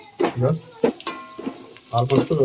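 Water is poured into a small air cooler in a few short splashing bursts, close and moderately loud, with voices mixed in.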